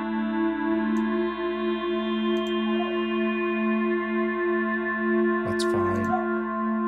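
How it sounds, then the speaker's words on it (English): A sustained, buzzy SynthMaster 2 chord with a warm, gritty tube-saturation edge, steady and loud throughout, with a brief noisy burst near the end. "Nice tube saturation."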